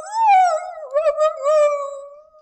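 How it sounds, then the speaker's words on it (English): A coyote howls, a single long, rising and wavering tonal call that holds clear and close against silence, with no voices. "You may even hear the magical howl of Coyote."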